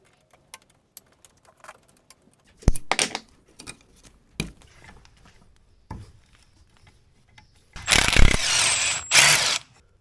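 A small nut is undone on the front brake flexi hose bracket of a 1967 Jaguar E-Type, heard as sparse clicks and short ratcheting bursts, with a longer louder rasp of spanner or metal toward the end.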